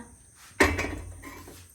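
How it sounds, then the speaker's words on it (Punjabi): A single heavy metallic clank as an iron tawa griddle is set down on a stove, followed by a brief ringing resonance that fades quickly. "ਹੁਣ ਆਪਾਂ ਇਹਦੇ ਤੇ ਧਰ ਦਿੰਨੇ ਤਵਾ"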